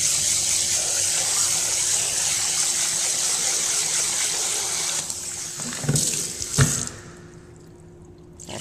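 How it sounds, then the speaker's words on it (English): Water streams hard from a sink faucet onto sushi rice being rinsed, a constant close rushing gush that thins and stops near the end, with a couple of clunks as the bowl shifts. "And what I like to do is just blast it with water one more time,"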